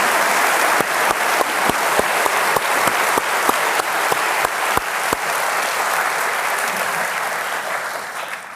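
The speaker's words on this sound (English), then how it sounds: "Please give a round of applause." Steady audience applause after a NATO press appearance, dense and close, with a run of sharp, louder individual claps standing out through the first five seconds before the clapping carries on evenly and starts to thin.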